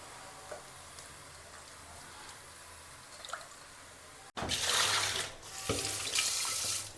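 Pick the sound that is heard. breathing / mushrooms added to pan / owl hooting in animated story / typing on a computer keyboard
mushrooms added to pan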